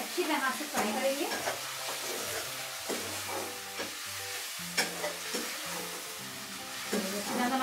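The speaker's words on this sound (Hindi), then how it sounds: "हमारा ये मिक्स हो गया है, फ्राई हो रहा है।" Tomato masala sizzles and fries steadily in a pan while a spoon stirs it, scraping in repeated strokes with a bright hiss throughout, for a kadhi pakora recipe.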